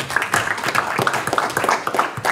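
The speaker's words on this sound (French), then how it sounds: "Je vous demande d'applaudir Junior Mbouyi" An audience applauds at a French-language event, a brisk patter of many hands clapping at a steady, lively pace, mid-distance and moderately loud, with no voice over it.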